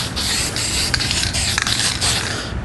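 An aerosol can fogs a light guide coat over bodywork on a 1971 Camaro SS, giving a loud, steady hiss that lasts the whole time, with a couple of faint clicks.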